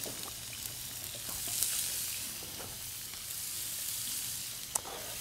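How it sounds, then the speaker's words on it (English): Pears, onions and ginger sizzle steadily in rendered duck fat in a hot pan, a continuous bright frying hiss broken by a couple of sharper crackles. "all we're gonna do is lightly caramelize the pears,"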